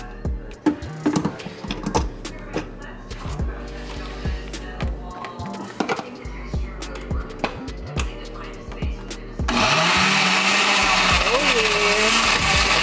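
A countertop blender whirs loudly and continuously as it mixes a smoothie, starting abruptly after a stretch of clinking and handling sounds, with a brief exclamation from a voice near the start.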